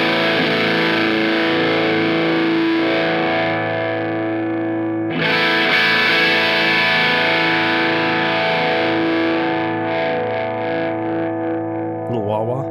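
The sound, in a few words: guitar through Tuller Audio Moon Jelly Overdrive, mids cranked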